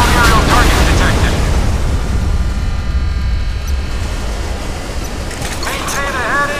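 A warship's missile launch in the naval game CN Type 096 roars as a sustained, loud rushing blast that slowly fades into a hissing wash, with faint voices near the start and end.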